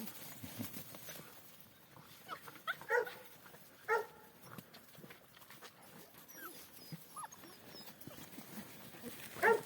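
Puppies let out a few short, high yelps and whimpers at scattered moments, over faint rustling and shuffling nearby.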